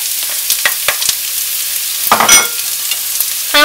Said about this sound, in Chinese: 炒一炒